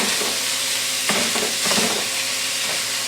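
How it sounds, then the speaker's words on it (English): Ground beef fries loudly in a pan with a constant close sizzle while a utensil breaks it up, giving a few scraping, stirring knocks through the hiss. "Alright, so I'm going to break this ground beef up."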